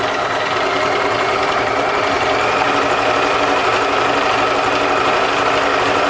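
A sewing machine stitches back and forth over laid threads, filling an area of fabric in a lace, paper and cloth piece; the motor drones continuously and closely at an even pace, with no talking.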